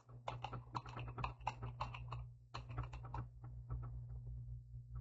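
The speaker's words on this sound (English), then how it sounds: "I'm going to type in the class I'm in, the instructor name," Computer keyboard keys typed in quick bursts, close and clear, with a short pause midway and a steady low hum underneath.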